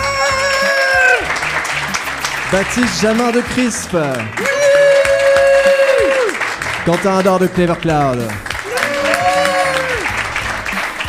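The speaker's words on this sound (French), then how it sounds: "Vous pouvez l'applaudir" Audience applause for guests of an amateur tech podcast recorded live, a steady clapping wash running beneath a voice introducing people and some sustained tonal sounds.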